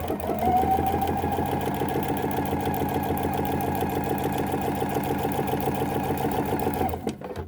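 A sewing machine runs continuously while stitching binding onto a quilt, a steady loud mechanical hum with fast rhythmic needle ticks that stops abruptly near the end.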